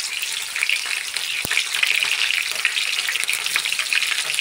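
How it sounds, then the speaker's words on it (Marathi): Mustard seeds, cumin and chilies fry in hot oil for a capsicum curry, producing a close, steady sizzle with light crackles and one sharp clink partway through, with no voices. "मोहरी टाकून घेतली आहे, जिरे टाकले, त्यानंतर मिरच्या टाकते"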